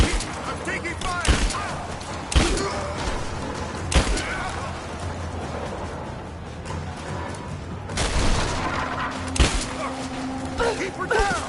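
Sporadic gunshots ring out in a Rise of the Tomb Raider firefight in catacombs, sharp bursts spaced every few seconds over rumbling game ambience, with voices and a radio-like call talking between the shots.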